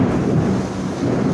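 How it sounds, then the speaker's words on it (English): Thunder rolls during a heavy rainstorm under a tornado warning, a deep continuous rumble blended with dense rain hiss, steady and fairly loud, with no voices. "I don't know if you're gonna hear the rain in the background"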